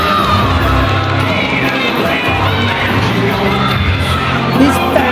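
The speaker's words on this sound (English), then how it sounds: "450 fervent Colac Mayhem maniacs cheering on the hometown hero as he retains the Mayhem Pro" A crowd of about 450 fans at the Clash of Colac wrestling show in Colac, Victoria, Australia, cheers and yells for their hometown wrestler retaining his championship, a dense, loud, continuous roar throughout.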